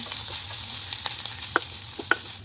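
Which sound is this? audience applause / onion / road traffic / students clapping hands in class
onion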